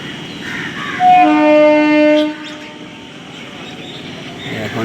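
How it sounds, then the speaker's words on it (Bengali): A train starting to leave the station sounds a single long horn blast lasting about a second, followed by a low rumble of the railway with faint birdsong in the background. "এখন ট্রেন ছেড়ে বেরিয়ে যাবে।"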